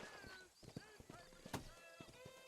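A horse's hooves clip-clop in Red Dead Redemption as the rider slows and stops, uneven thuds at close range mixed with tonal game sounds.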